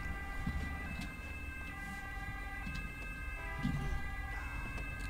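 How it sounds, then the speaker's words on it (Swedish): Police car siren in GTA 5, a steady electronic wail running the whole stretch over a dense game soundscape of traffic and engine rumble, with no talking. "stänga av mina sirener här"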